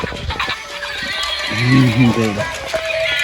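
A battery-powered toy horse gives an electronic neigh, a bright harmonic whinny rising mid-clip over a steady mechanical whir from its running motion, with a voice speaking nearby.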